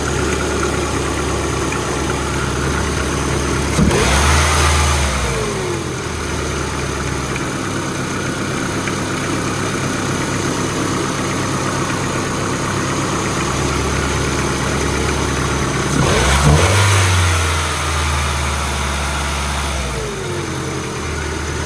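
Old abandoned Ford engine, in rotten condition, running steadily at a rough mid-pitched idle, with two brief rev surges about twelve seconds apart before settling back.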